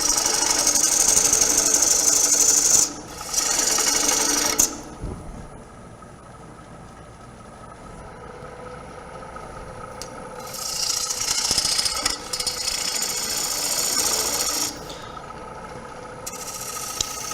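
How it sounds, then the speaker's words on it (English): A gouge cuts wood on a lathe, riding its bevel down the turning piece. The scraping cut comes in loud bursts near the start and again around the middle and end, with steady motor hum between them. "glide that bevel all the way down"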